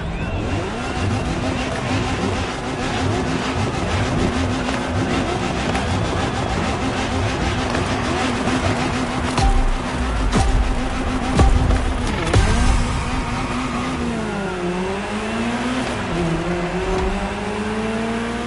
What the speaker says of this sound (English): car you're about to drive in this opening event is none other than the first Ferrari in the supercar bloodline, the Ferrari GTO